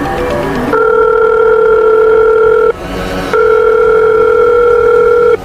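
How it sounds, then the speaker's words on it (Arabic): A phone ringing with a steady electronic tone that holds for about two seconds, pauses briefly, then sounds again, loud and close, with no one talking. "تليفوني بيرن، رقم غريب مش محفوظ عندي"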